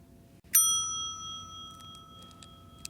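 A TV signature chime rings once, a bright metallic strike whose pure tones sustain and slowly fade over quiet background, followed by a few faint, light taps.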